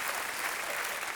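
Audience applause at a Beijing circus show, a dense, steady patter of clapping from a crowd that carries evenly through the whole short stretch without any break.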